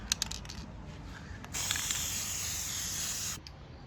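A spray can hisses steadily for about two seconds while a DIY bench grinder stand is painted black, preceded by a few faint clicks and knocks, close and fairly loud.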